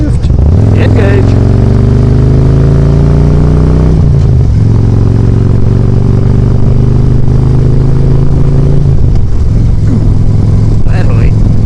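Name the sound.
Harley-Davidson motorcycle downshifting while riding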